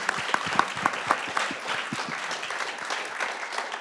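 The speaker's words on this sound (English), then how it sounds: "please join me in giving them a round of applause." Audience applause for two speakers at a humanitarian aid panel event, steady broadband clapping from a moderate-sized crowd that holds evenly for the whole span with a few sharper individual claps near the start.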